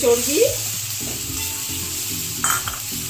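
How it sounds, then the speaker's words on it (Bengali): Mutton fat sizzles loudly as it fries in a pan, a steady close hiss with a few clinks and stirring scrapes, and a brief louder flare near the end. "চর্বিটা দিয়ে একটু কষবো, কষে তারপরে ডালটা দেবো"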